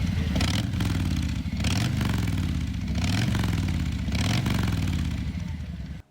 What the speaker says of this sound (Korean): 밖에서는 이렇게 따로 바이크를 모아놓고 그의 배기음을 들을 수 있는 공간이 따로 마련되어 있었습니다